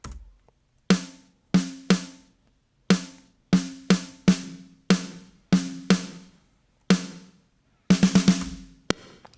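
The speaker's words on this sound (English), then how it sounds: "this is just a reverb for the snare" Pop punk snare drum in Logic with a Chromaverb bus reverb on its digital setting, about a dozen sharp hits spaced apart, dry tails first and then longer ringing decays as the reverb comes in, with a quick roll near the end.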